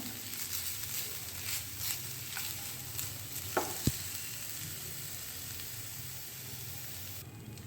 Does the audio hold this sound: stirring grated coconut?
yes